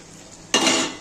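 A spoon scrapes and clatters against a pan as potatoes are stirred in with Bengali-style chicken kosha, one sudden loud scrape after a quiet moment, with no voices.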